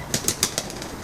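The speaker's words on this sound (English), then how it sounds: "The wood pigeon tries batting it away with its wing." A wood pigeon beats its wing in a short series of about five quick, close flaps over a steady outdoor hiss.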